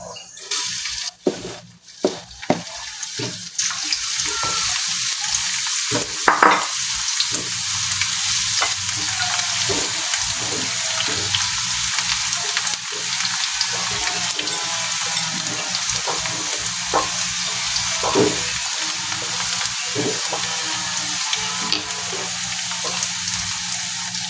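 Garlic frying in a pan while making chicken pastil, a steady loud sizzle with scraping stir strokes and occasional knocks, continuing without a break and with no voices.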